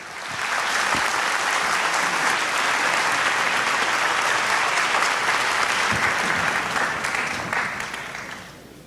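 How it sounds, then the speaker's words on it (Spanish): A large audience at a national manufacturing industry congress applauds to welcome the president of Conindustria, Juan Pablo Olalteaga, sustained dense clapping that swells quickly, holds steady for several seconds, then fades away. "recibamos con un muy fuerte aplauso al presidente de Conindustria, Juan Pablo Olalteaga"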